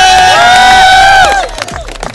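A college show audience at M.M.P.G. College in Fatehabad erupts in loud, close cheering and shouting that fades into scattered claps and hubbub after about a second and a half.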